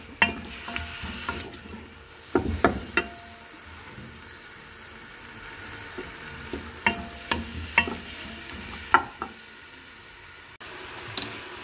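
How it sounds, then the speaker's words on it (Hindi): Chopped onions fry in a pan while being cooked for beef karahi: a soft, steady sizzle runs underneath, broken by spoon scrapes and taps against the metal at irregular intervals, fairly close. "अब मैं इसको फ्राई कर लूँगी"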